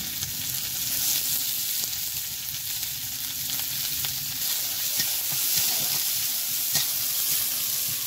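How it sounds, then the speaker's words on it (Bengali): Continuous soft sizzling of onions frying in oil, with faint stirring scrapes and occasional small pops, fairly quiet and steady. "এবার আমি এই যে পেঁয়াজ ভাজছি"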